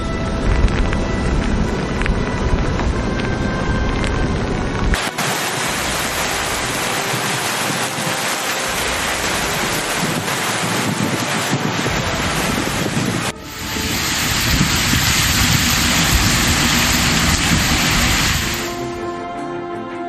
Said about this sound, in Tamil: காலை முதல் பலத்த காற்றுடன் கனமழை கொட்டி வருவதால்